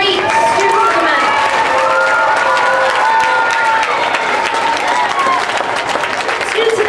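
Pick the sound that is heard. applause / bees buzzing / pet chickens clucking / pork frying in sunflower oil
applause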